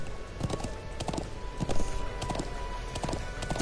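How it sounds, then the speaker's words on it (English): Horse hooves beat in a steady, continuous clip-clop while riding through the Nord Highlands in the video game Trails of Cold Steel 2, close and fairly loud over a dense background. "I'm glad I still remember how to ride a horse."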